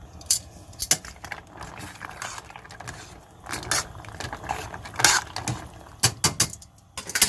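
Metal utensil scraping and clinking against a pot of boiling pasta, irregular stirring clatter in bursts, close up with no voices.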